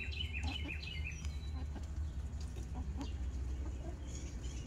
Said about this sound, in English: There's Ginger being a chicken